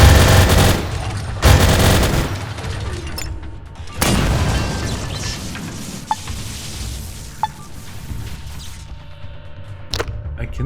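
Bursts of machine gun fire and heavy booms from an enemy in the video game Atom RPG Trudograd, loud rattling volleys at the start then scattered sharper single shots fading toward the end.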